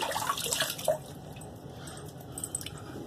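Water splashes and drips as a face is rinsed after a shave with a Tabac shave stick, with close wet splashing at first, then quieter trickles and drips.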